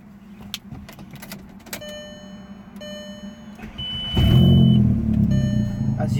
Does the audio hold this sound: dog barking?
no